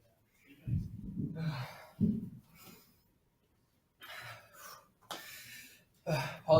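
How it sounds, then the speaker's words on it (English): A person panting heavily after exertion in a lab, with loud, irregular bursts of breathing and gasps separated by short silences, close to the listener. "Thank you for putting up with my panting."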